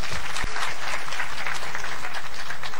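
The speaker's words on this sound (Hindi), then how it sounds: "इनके लिए तालियां, वेरी वेल डन।" An audience applauds a speaker during a motivational speech, steady dense clapping filling the whole stretch from start to finish, loud and close.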